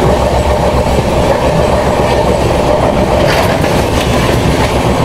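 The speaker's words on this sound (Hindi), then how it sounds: "ये देखो सामने WP5 के साथ कोई तो ट्रेन आ रही है" The Pune Duronto Express, hauled by a WP5 locomotive, rolls past on Indian railway tracks, a loud, close, continuous roar of rolling wheels and rhythmic rail clatter with no voices.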